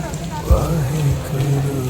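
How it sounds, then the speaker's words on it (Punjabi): Rain pours steadily at a Sikh gurdwara in Nanded, a soft continuous hiss with a single thud near the start, while someone talks over it. "ਬਾਰਿਸ਼ ਵੇਖੋ ਜੀ"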